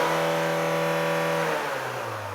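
A car engine holds at a high, steady rev during an exhaust emissions test with a probe in the tailpipe, then the pitch sags as the revs drop off, loud and close with no talking.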